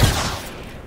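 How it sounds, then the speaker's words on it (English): A burst of gunfire in the Star Citizen video game, one loud close rattling volley that tails off quickly. "Horrible shooting."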